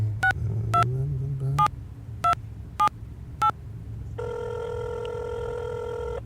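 A telephone keypad beeps out six separate dialing tones at an uneven pace over a low background hum, then a steady electronic ring tone starts and holds to the end.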